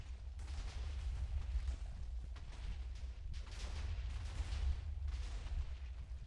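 Massed TNT explosions in Minecraft roll on as a dense, continuous rumble with repeated crackling bursts layered over a heavy low boom, loud and steady for several seconds.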